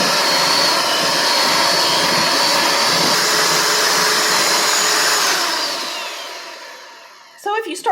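Electric hand mixer beating cream cheese for a cherry cream cheese gelatin salad, a loud steady whirring drone lasting several seconds before it winds down and stops, followed by a brief voice.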